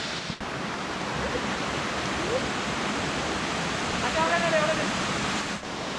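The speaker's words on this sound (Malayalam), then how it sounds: "അതിപ്പോൾ നമ്മൾ നിൽക്കുന്ന വെള്ളച്ചാട്ടത്തിൻ്റെ മേഖലയാണ്" Steady, broadband rushing water fills the scene without a break, a constant roar like a nearby waterfall.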